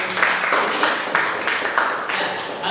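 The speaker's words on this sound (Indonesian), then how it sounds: "Tepuk tangan." A school audience at SMA Negeri 1 Pejagoan claps in applause, a steady patter of many hands with light rhythmic swells, moderately loud and sustained throughout.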